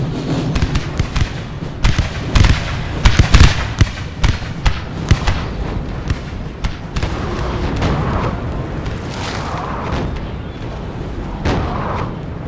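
Canister shot artillery fire in Napoleon: Total War, a loud barrage of booming cannon blasts and crackling volleys in irregular clusters, thinning into distant rumbling battle noise.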